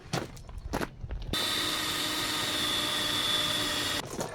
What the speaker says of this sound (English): I'll grab a drill and we'll go with that.